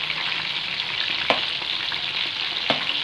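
Prawns fry in a pan with a loud, steady close sizzle, broken twice by sharp clicks as they are stirred or flipped.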